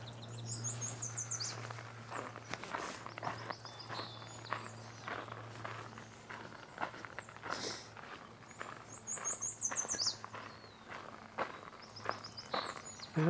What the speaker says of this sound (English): Yeah, the chestnut back chickadees.